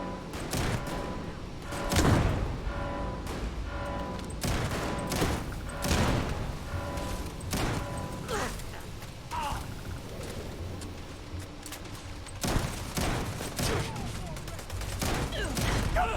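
Video game gunfire in a shooter, with rapid bursts and single shots cracking repeatedly over a dense, steady background of game noise, loud and close throughout.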